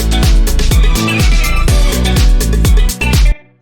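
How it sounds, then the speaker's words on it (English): Shaker ticks steadily through a loud funky disco house mix, riding over punchy kick drums and dense bass and chords, with the full groove cutting out just before the end. "But now when we add in the shaker, we're getting chicka, chicka, chicka."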